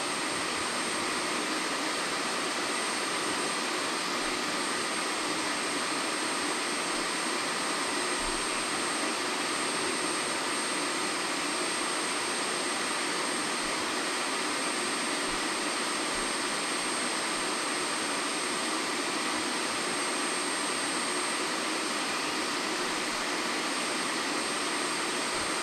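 A Roborock Flexi Lite wet-dry vacuum runs its centrifugal drying cycle, giving a constant, loud, high-pitched whirring whine that holds steady with no pauses or talk.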